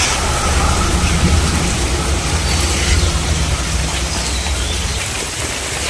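Heavy rain falls steadily and loudly outdoors near a house, a dense continuous wash of noise with no voices.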